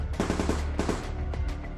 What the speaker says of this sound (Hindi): हितेश ने रिया को प्रोटेक्ट करते हुए मायरा पर गोलियां बरसाना शुरू कर दी